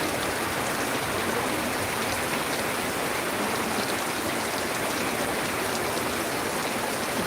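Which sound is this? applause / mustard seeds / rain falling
rain falling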